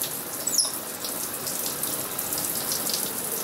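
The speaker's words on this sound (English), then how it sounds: "Put your head under the water." Shower water running steadily while a pet monkey is washed, a continuous broadband hiss with a faint brief chirp near the start and no talking.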